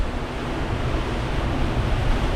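Steady roaring hurricane wind, gusting around 65 to 70 mph, buffets the microphone with a continuous heavy rush, loud and unbroken throughout.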